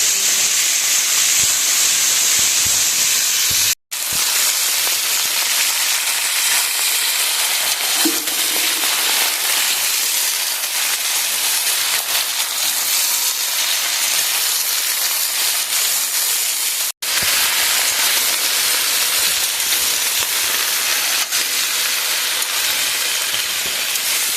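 Loud, steady sizzling and hissing of vegetables (taro, radish, carrot, kohlrabi, cauliflower) hitting hot oil with fried whole spices, continuous throughout with two brief dropouts, no voices.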